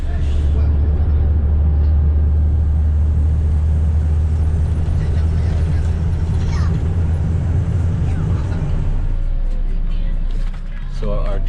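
A bus engine drones loudly and steadily while riding along a road between Mexico and Guatemala, with a deep, continuous low rumble and rattling cabin noise that fades slightly near the end.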